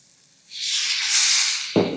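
Water hissing and sizzling as it hits a hot steel kadhai holding red chili powder, a sudden loud spray of steam that swells and holds, with a sharper burst near the end; no talking.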